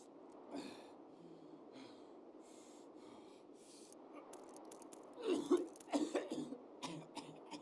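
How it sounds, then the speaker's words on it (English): A character in the Escape From Tarkov video game coughs and clears its throat, a few rough bursts near the end over a steady low game background. "I hate his cough sound"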